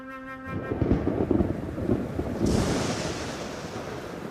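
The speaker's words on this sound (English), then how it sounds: "Electrical storms sometimes generate flash floods." Deep rolling thunder from an electrical storm over an Australian desert dune system, a long loud rumble that swells and churns for several seconds with a hissing wash of rain or wind noise joining partway through, no voices.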